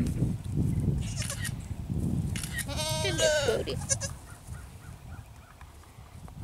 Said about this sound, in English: You got two baby goats.